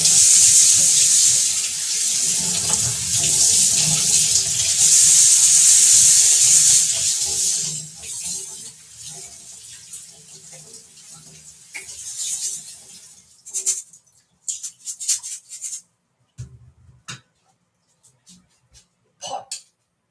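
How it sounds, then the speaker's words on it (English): Running tap water pours loudly and steadily over lentils being washed in a sink. It cuts off after about eight seconds, leaving quieter rustles, clinks and handling noises in bursts. "Wash lentils."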